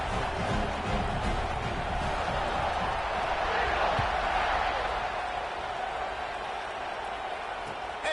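Steady roar of a large stadium crowd cheering throughout in a Madden college football video game, a continuous wash of voices with no clear breaks.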